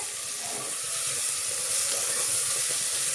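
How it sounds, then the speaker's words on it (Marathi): Onion and tomato sizzle together in a pan for Maharashtrian masale bhat, a steady, fairly loud frying hiss that holds evenly for a few seconds with no voices. "कांदा आणि टोमॅटो दोन्ही बरोबरच टाकले मी इथे"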